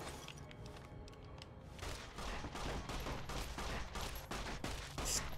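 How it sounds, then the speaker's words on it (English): Rapid gunfire in Fallout: New Vegas, a dense, loud barrage of overlapping shots and thuds that grows heavier after the first two seconds and continues throughout. "Stop shooting me!"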